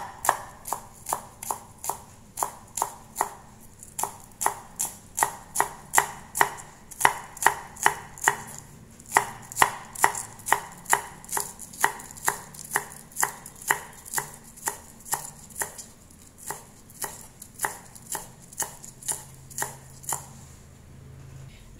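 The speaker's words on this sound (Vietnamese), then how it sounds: "Cái phần hành lá này thì cái phần đầu hành các bạn cũng thái ra để mình phi thơm nhé." A knife slices through scallion heads on a cutting board in a steady run of about forty crisp, evenly spaced chops, close and clear with no talking.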